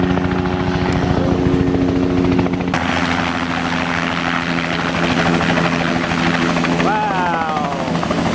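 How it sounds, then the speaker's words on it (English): A helicopter waits for a sightseeing flight over Victoria Falls in Africa, its rotor and engine droning steadily and loud up close for the whole stretch, with excited voices cheering over it. "here is the helicopter, which on this new day we're going to take to the Victoria Falls"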